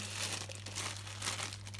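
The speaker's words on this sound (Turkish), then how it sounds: "Şimdi ben bunları poşetime de güzelce yerleştirdim." Plastic freezer bag crinkling and rustling as chopped squash is packed into it, a close, steady crumpling sound with no talk.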